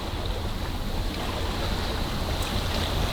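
A sailboat under way on open water on a sailing trip to Damp, with a steady, close rush of wind and water washing against the hull that continues unbroken, and no voices.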